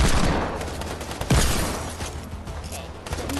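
Booming hand cannon shots in Fortnite, a few heavy blasts with rumbling tails, loud and close, amid game action.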